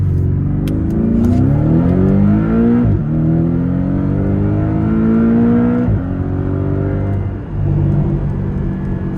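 A 2022 Porsche Cayman T turbo four-cylinder engine pulls hard through the gears, rising in pitch with brief dips at each shift, loud and close.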